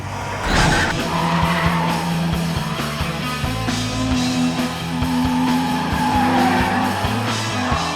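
Dodge Viper SRT-10 sports car skidding with tires squealing, a loud continuous screech and engine roar held close throughout, with no talking.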